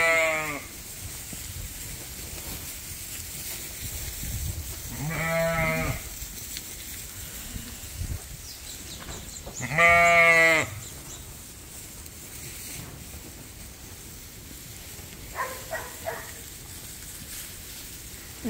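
Sheep and lambs bleat in a barn, with several separate wavering calls, some nearer and louder, spaced over quiet rustling background and faint distant cries.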